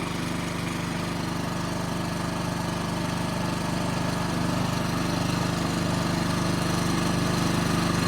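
A 2.5 kW generator runs steadily under the load of a 2 kW fan heater, its engine droning loud and continuous with a constant hum and no speech.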